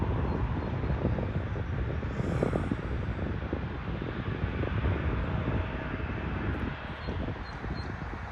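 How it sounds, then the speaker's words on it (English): A Boeing Dreamliner airliner arriving at Toronto airport makes a soft, distant, steady jet rumble that swells slightly and then eases, with no voices. "Looks like the Dreamliner is going to the other side."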